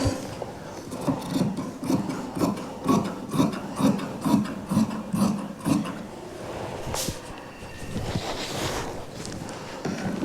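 Scissors cutting through fabric for an A-line kurti, a soft rhythmic rasping and snipping that repeats steadily for several seconds, then changes to quieter handling noises, with no talk.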